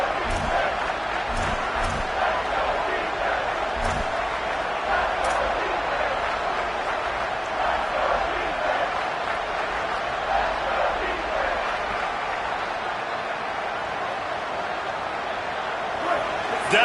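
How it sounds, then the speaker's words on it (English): Stadium crowd roar in a college football video game, Oregon home crowd getting loud on a third-down defensive stand, a steady dense wall of cheering that holds for the whole stretch, with a commentator's voice over it. "Decibels rising as the crowd gets behind this defense on third down."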